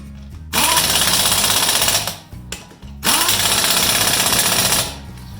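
Two sustained bursts from a power impact tool tightening wheel lug nuts during a tire rotation, each rattling hard for about a second and a half with a short pause between, loud and close.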